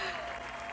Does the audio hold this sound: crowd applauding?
yes